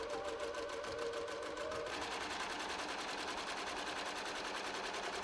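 A sewing machine stitches darts in the front and side panels of a Victorian-inspired skirt, a fast steady mechanical whir that runs continuously and picks up speed slightly partway through.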